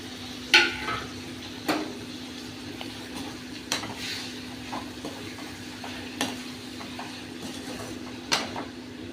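Stirring and sautéing in a pan while cooking Tamil fish curry, with a steady low sizzle and several sharp spoon-against-pan knocks spaced every couple of seconds, close and moderately quiet.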